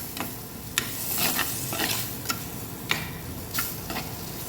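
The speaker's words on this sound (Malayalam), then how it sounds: "നന്നായി ഇളക്കി കൊടുക്കാം." Coriander and turmeric powder stirred into a sizzling pan for a sardine and Chinese potato curry, with a steady close fry and spaced sharp spatula taps on the pan, and no talking.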